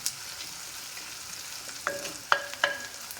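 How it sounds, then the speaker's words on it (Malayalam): Onions sauté in a clay pot, a soft steady sizzle with a few distinct stirring scrapes and knocks toward the end. "സബോളയൊക്കെ ഏകദേശം ഒന്ന് നന്നായിട്ട് വഴറ്റി കിട്ടിയിട്ടുണ്ട്"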